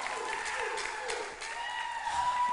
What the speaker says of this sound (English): Another round of applause for Kasaya and her sisters from Vaini.